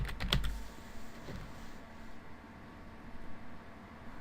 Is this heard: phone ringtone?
no